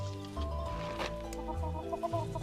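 Pet chickens cluck and murmur close by during enrichment feeding with treats, a run of short rhythmic clucks building toward the end, with no one talking.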